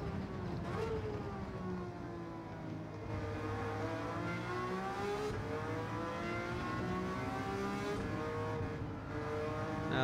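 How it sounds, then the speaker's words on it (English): A high-pitched Ferrari 330 P4 race car engine in Gran Turismo 7 at Sardegna Road A revs steadily, its crisp, raspy harmonic whine rising and falling through gear changes, loud and continuous with no voices. "Now this engine has its own particular crispy rasp, doesn't it?"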